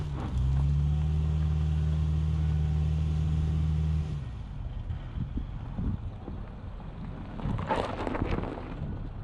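A Subaru with a CVT and symmetrical AWD strains up a steep off-road hill, its engine holding a loud, steady droning hum for several seconds before dropping away to rumbling, crunching tire and wind noise.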